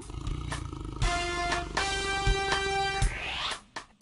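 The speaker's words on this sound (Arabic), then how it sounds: "فهد" A leopard or cheetah in an animated wild-animal lesson lets out several loud, close, tonal roars and growls, rising and breaking off in short bursts before fading at the end.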